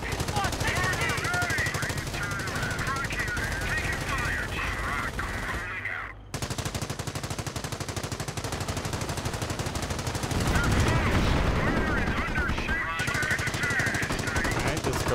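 Sustained machine gun fire in the Company of Heroes harbour battle, a steady rattling stream that barely pauses, with a brief gap midway and voices calling out over the combat.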